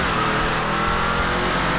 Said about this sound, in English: This thing has no brakes. This thing has no steering. This is not a good performing car.